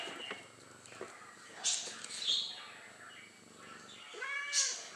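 Pet cat meowing indoors in several short, fairly close calls, the last a rising drawn-out meow, with faint household noise between.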